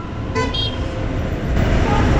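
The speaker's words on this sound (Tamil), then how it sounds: "நம்ம செம்ம டிராஃபிக்கில் மாட்டிக்கிட்டோம்." Heavy road traffic heard from a scooter on the ride from Coimbatore to Ooty: a vehicle horn gives two quick toots over a constant rumble of engines and wind.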